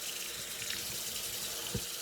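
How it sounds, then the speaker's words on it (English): Water running from a tap into a sink, a soft steady splash with a couple of small drips landing close by. "A couple more drips of water."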